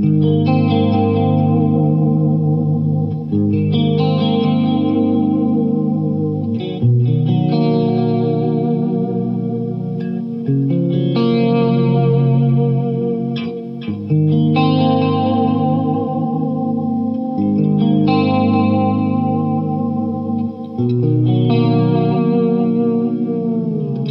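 Electric guitar on the clean channel of a 5150III amp with chorus and delay, ringing chords strummed in repeated phrases, shimmering and echoing, played alone.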